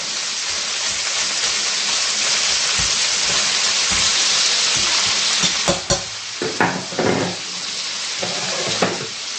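Kielbasa browning in a hot pan with onions and cabbage, a steady broad sizzle and frying hiss, joined later by a series of scraping, clattering stirs.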